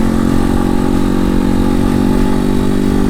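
A Janus Motorcycles Phoenix 250 single-cylinder engine drones steadily while the bike is ridden, a loud, continuous mid-pitched hum under buffeting wind with no break over the few seconds.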